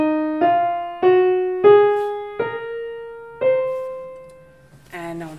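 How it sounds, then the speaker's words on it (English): A musical scale on piano, five clear ascending notes struck one after another at a steady pace, each ringing and decaying, followed by a brief different tone at the end. "And this scale on the piano sounds like this."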